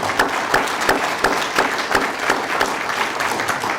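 An audience at a town hall in a community hall in Priest River, Idaho, claps in a steady, moderately loud applause of many hands with sharp individual claps through it.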